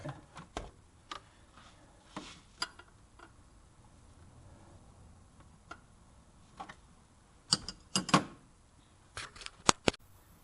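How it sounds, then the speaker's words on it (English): Wrench clicking while turning an injector fitting on an LBZ Duramax diesel engine, a series of sharp close ticks and clicks, sparse at first then clustering in quick bursts near the end, with no talking. "I can get my wrench on it without moving my light."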